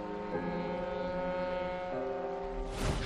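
An old ferry on the Yangtze River in Wuhan sounds its horn, a sustained, steady low tone lasting about three seconds, with a brief gust of wind noise near the end.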